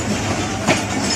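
Pakistan Express passenger train pulling into Faisalabad railway station, a steady close rumble of rolling carriages with faint clickety-clack of wheels on rails, no voices.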